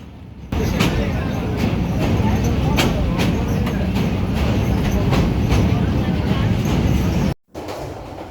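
A passenger train on the Dhaka to Cox's Bazar route crossing a bridge over the Bhairab river at night, heard from inside as a loud, steady rumble with faint rhythmic clacks, cutting out briefly near the end.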